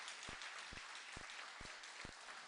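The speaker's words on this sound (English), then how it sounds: "Give yourselves a round of applause." Conference delegates at a Jamaica Police Federation annual joint central conference applaud steadily, a dense wash of clapping from a large crowd with a few sharper claps standing out, no talking over it.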